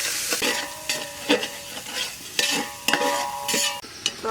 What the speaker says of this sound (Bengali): তরকারি দিয়ে এখন মশলার সাথে সুন্দরভাবে কষে নেব